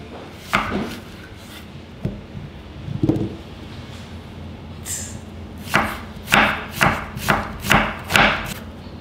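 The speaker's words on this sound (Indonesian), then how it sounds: "Rajang bawang bombay" Kitchen knife chopping onion on a board: a few scattered cuts early, then a steady run of firm, evenly spaced thuds toward the end, close and clear.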